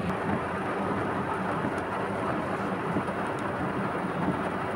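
Heavy monsoon rain during a storm in Bhubaneswar, India, a steady dense wash of downpour with low rumbling thunder underneath, constant throughout with no talk.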